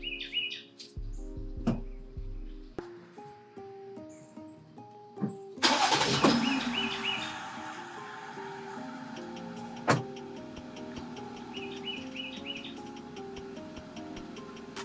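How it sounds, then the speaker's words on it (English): A Jeep Gladiator fitted with a DIY dual-battery setup cranks and fires up midway, then settles into a steady idle, with birds chirping in the background. "I'm gonna turn on the car and let's see what it does."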